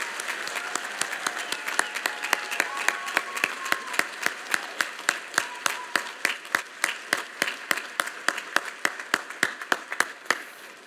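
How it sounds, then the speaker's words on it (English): An audience at a U.S. Naval War College fall graduation ceremony claps in a large room. The applause is dense and sustained, with sharp, regularly repeating claps that stand out over the wash of the crowd. "Please join us in a tremendous round of applause for our graduates, honorees, and their families."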